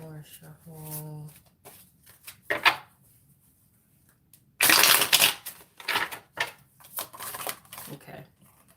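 Tarot cards shuffled in a tarot reading, a loud dense riffling burst lasting about a second followed by several shorter flicks and taps, with a person talking briefly before it.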